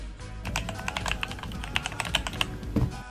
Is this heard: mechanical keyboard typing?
yes